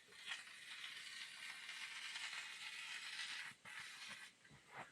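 A spray foam gun, held upside down, sprays insulation foam during a roof dome fan installation, giving a steady close hiss that breaks off briefly once and then sputters near the end.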